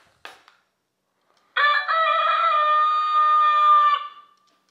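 Electric car pedestrian warning sound device plays a bright electronic melody, a sustained buzzy tone lasting about two and a half seconds after a brief click, loud and close with no talking.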